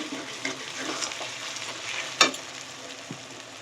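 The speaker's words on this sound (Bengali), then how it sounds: "এখানে ভালো করে মশলাটা কষা হয়ে গেছে আমার।" Spice paste for a chicken curry fries in a pan while being stirred: a steady sizzle with soft scraping strokes and one sharp clink of the utensil, close up and free of talk.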